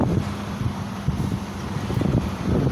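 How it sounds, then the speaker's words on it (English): Wind gusts steadily across a lakeside waterfront on Wolf Island, a continuous low rushing buffet against the microphone with no talk. "I thought it was going to be less windy over here."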